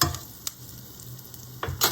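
Tomato garlic chutney sizzling and frying in hot oil in a pan, a steady soft hiss broken by a few sharp crackles and stirring bursts, close and fairly quiet.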